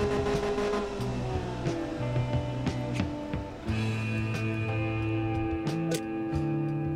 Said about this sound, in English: Engine is knocking.